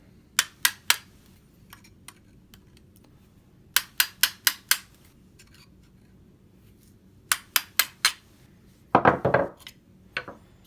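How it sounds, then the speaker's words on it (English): A flathead screwdriver tapped against a Century Arms AK47 part to knock it loose, sharp metallic clicks in quick clusters of three to five taps separated by pauses, close, followed by a brief scraping rattle as the part frees, no talk. "You're going to put that flathead, okay? What we're going to do is we're going to just tap, tap, tappy and get that bad boy loose."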